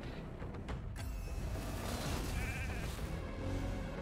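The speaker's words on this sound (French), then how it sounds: "Oh, le petit mouton." A small sheep bleats in the fantasy game Raid Shadow Legends, a wavering cry half-buried in dense, noisy battle effects and music, with no voices.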